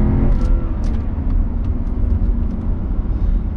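A 2011 BMW Alpina B7 accelerates in sport mode with a loud, deep engine roar and road rumble heard from inside the car, steady and powerful, with no talk over it.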